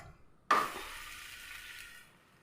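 An oats chapati is flipped onto a hot pan over a low flame, giving a sudden soft slap followed by a gentle, fading sizzle of about two seconds in a quiet kitchen.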